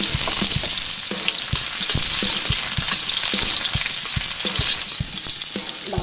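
Onions frying in oil in a pan for beef adobo, a steady close sizzle with scattered crackles and pops throughout, no voices.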